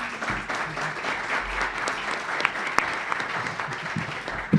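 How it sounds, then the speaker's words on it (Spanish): An audience applauding guests at the close of a panel discussion on screenwriting and directing, a continuous moderate patter of many hands with a few louder claps standing out, no voices over it. "Bueno, un aplauso para nuestros invitados."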